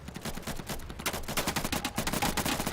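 Bursts of RPK machine gun fire in a cooperative multiplayer shooter game, a loud stuttering rattle of shots that grows denser and steadier toward the end, with no talk over it.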